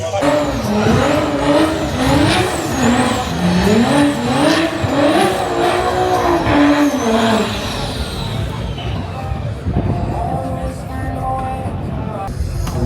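A 1400bhp Toyota A90 Supra screams through gear changes on a quarter-mile run, loud rising engine pitch with shifts, then fades away into distant crowd noise.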